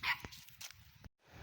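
A dog barks in a few short, sharp bursts at moderate distance along a rural path on the walk home from gathering coconuts, then falls quiet.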